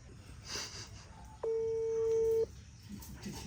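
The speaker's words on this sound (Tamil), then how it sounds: "இப்போ அவருக்கு ஃபோன் அடிப்பான்" A steady single telephone tone lasting about a second, like a dialing beep, as a call is placed, heard over quiet room ambience with faint background voices.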